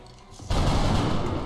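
Soldiers' gunfire in the strategy game XCOM Long War, a sudden loud volley of rapid shots that erupts after a quiet lead-in and keeps rattling to the end.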